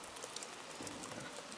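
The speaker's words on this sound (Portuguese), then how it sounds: "Muita chuva mesmo, ó." Heavy rain falls steadily in Bahia, a soft, continuous hiss of drops on surfaces, fairly faint and even throughout with no voices.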